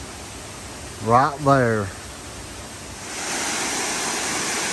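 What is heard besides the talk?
Beaver Brook Falls waterfall on the Appalachian Trail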